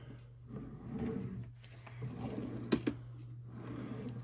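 A drawer on a mobile computer workstation slides open and shut, soft rolling scrapes followed by two sharp knocks, close by over a steady electrical hum.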